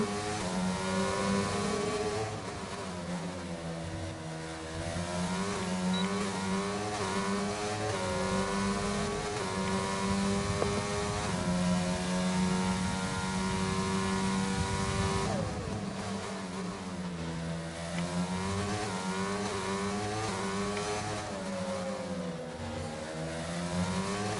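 Several race car engines in a racing video game drone and rev continuously, their pitch rising and falling as cars accelerate and shift, without any talking.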